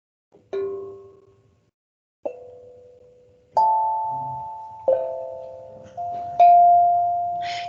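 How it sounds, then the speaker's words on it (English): A small steel tongue drum struck with a mallet rings out five separate bell-like tones, each a clear sustained note decaying slowly, spaced a second or so apart and close by, with no voices. "these they're like little steel tongue drums. And you can just hit them with a mallet."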